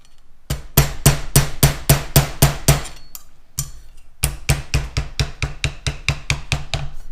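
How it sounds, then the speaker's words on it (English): A plastic hammer taps on a metal sheet, folding a two-stroke expansion chamber pipe for an RS-100 motorcycle. Close, sharp strikes come in a steady run of about eight, a brief pause, then another faster series of taps. "once you start going with the plastic hammer, you can just feed it up, and just continually tap"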